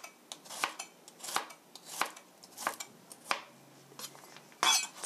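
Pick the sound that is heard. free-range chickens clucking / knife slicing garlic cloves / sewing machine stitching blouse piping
knife slicing garlic cloves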